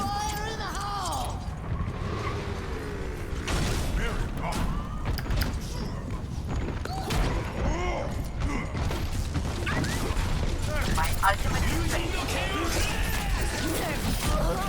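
Explosions and gunfire in the game Overwatch, with dense, continuous bursts and crashing impacts that stay loud throughout.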